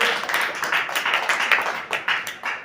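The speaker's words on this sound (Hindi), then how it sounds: "तो इनके लिए भी तालियां" A classroom of pupils claps for a classmate, a short burst of quick, uneven hand claps close by with no talking.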